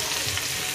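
Tomatoes fry and get stirred in a pan for chicken afritada, a steady broadband sizzle with soft low rumbling and no voices.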